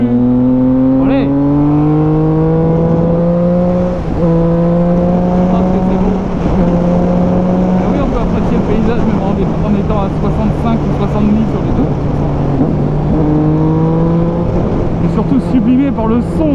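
A three-cylinder car revs hard through a chicane, its rasping engine note climbing and dropping in repeated pulls close by, with people talking over it.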